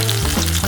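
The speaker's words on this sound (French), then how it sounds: "on pourra les plonger dans l'huile bouillante" Potato smiley shapes frying in boiling oil, giving a steady, close, dense sizzle with a low hum underneath, heard alone for under a second.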